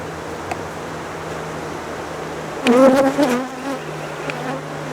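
Honey bees buzz steadily around hive frames in an outdoor beeyard, a low continuous drone that swells briefly louder as a few insects pass close, with no talking.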